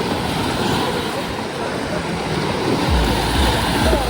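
Steady broadband wash of sea waves rolling onto a long beach, continuous and fairly loud, with wind noise and a low rumble swelling toward the end.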